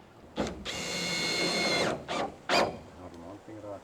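A power drill bores into wood outdoors in a Swedish forest, a steady high whine for over a second before stopping, followed by a couple of short bursts, with people talking briefly around it.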